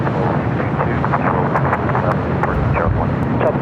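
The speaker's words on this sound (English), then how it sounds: "That was China Southern Cargo, flight 444, 444, heading to Shanghai, a 777 freighter" A China Southern Cargo Boeing 777 freighter takes off from runway 25 Left at LAX with a loud, steady jet roar. Wind buffets the microphone throughout.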